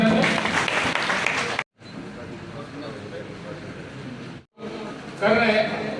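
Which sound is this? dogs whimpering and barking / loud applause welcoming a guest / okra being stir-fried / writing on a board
loud applause welcoming a guest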